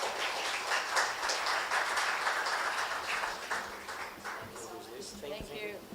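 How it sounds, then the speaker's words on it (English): An audience at a fintech conference talk claps in a steady round of applause, a moderately loud, even patter that fades slightly toward the end, with a brief voice near the close. "give a huge round of applause to Ayşegül"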